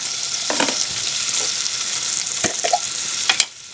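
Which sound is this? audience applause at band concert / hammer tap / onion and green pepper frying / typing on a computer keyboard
onion and green pepper frying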